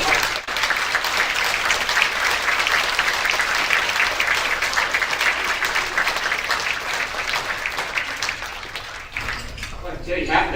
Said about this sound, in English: give a round warm of applause for Christopher Arks